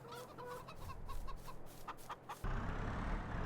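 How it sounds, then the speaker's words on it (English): Chickens in the farming game Farming Simulator 22 cluck and squawk in short bursts over a steady rural background hum, which grows louder and rougher toward the end. "Let's see if we can give the chickens a little more food here."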